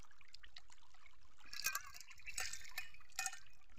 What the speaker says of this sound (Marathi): पाणी बिणी पितोय आता. रानात असल्यावर असंच प्यावं लागतं पाणी